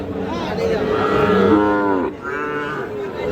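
A cross Brahman bull calf at a cattle market gives one long, loud, drawn-out moo, close by, dipping briefly before a second lower moo follows.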